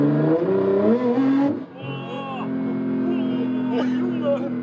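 Nissan GT-R with over 1000 hp accelerating hard on a test drive, a loud engine note climbing through the gears with a shift break, heard from inside the car with voices over it.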